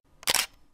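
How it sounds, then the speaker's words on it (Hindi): A camera shutter click sound effect, one short crisp mechanical snap like a single-lens reflex camera firing, fairly quiet and heard alone. "shutter click,"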